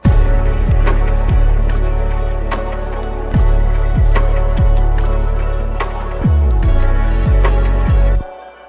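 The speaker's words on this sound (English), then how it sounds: "this 808 smacks" Booming 808 bass drum hits with long pitch-gliding tails drive a dense electronic beat, loud and punchy, repeating in a steady pattern until it cuts off.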